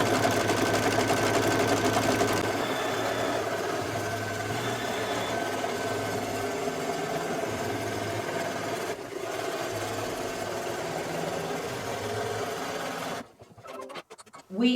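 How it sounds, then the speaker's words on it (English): An embroidery sewing machine stitches a piecing template onto quilt batting, its steady rapid mechanical whirr running loud and continuous for about thirteen seconds before cutting off into a few brief clunks and near silence. "So the first thing it's going to do is stitch out the template."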